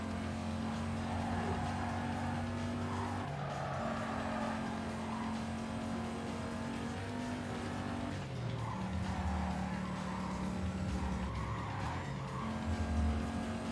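Mercedes CLK 500 racing in the video game Need for Speed Carbon, a loud engine droning steadily and stepping through gear changes, with tire squeals and skids layered on top throughout.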